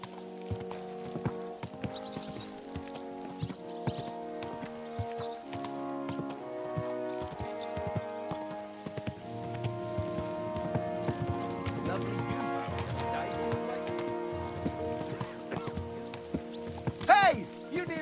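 Horse hooves clip-clop steadily in Kingdom Come: Deliverance II, running under a layer of medieval-style music with voices speaking over the trotting.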